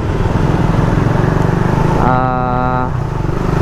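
A loud, rough Suzuki Raider 150 carburetor motorcycle engine with double overhead camshafts runs steadily throughout, its rattling drone briefly joined by a higher harmonic whine in the middle.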